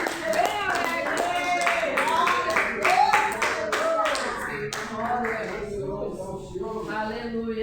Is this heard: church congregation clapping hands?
yes